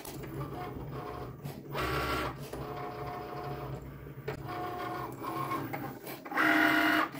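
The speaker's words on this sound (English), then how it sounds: "The Cricut Maker cuts pretty fast." A Cricut Maker cutting holographic vinyl hums and whirs in steady mechanical bursts, its carriage shuttling back and forth with rising and falling motor pitch, close and alone.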